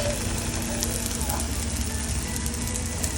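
A multi-layered radish masala lachha paratha fries in ghee on its flipped side, giving a close, steady sizzle with a voice talking over it.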